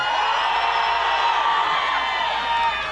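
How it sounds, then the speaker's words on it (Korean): An outdoor concert audience at a temple music festival shouts and cheers loudly, a sustained roar of many voices with whoops filling the space. "40대, 50대 분들 소리 지르세요!"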